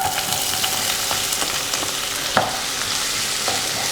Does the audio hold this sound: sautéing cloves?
yes